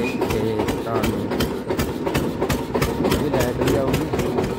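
An Eicher tractor engine runs steadily and loudly nearby, a continuous low rumble with a regular rapid knocking pulse, unchanging throughout.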